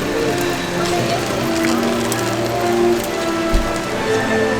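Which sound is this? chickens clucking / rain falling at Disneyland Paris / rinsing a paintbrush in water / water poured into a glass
rain falling at Disneyland Paris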